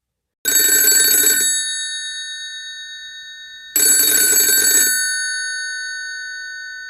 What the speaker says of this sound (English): At 10:07, my phone rang.